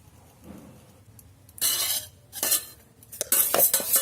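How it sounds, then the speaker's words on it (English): Vermicelli (sevayi) frying in an electric kettle while a utensil stirs and scrapes against the metal, a few quiet moments giving way to bursts of loud clattering strokes and faint sizzle. "Then fry the sevayi till they turn light golden color."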